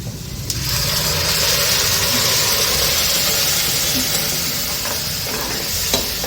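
Ground spinach paste for palak paneer hisses and sizzles in hot oil as it is stirred, a loud, steady frying wash that fills the whole clip with faint scraping underneath and no talking.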